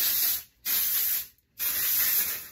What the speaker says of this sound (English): I also got this Sumo Liquid Wax and Finishing Spray